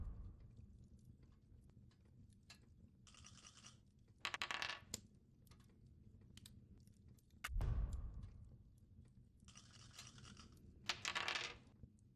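Dice rattle and tumble in short bursts within a fantasy dungeon adventure game, several separate clattering rolls spaced apart over a quiet background, crisp and close.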